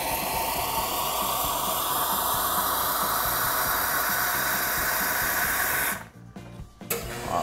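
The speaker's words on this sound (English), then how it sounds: "So we'll get some boiling water in here." Steady hissing rush of boiling water pouring into a glass of espresso at a coffee shop for several seconds, cutting off abruptly near the end with a brief trickle.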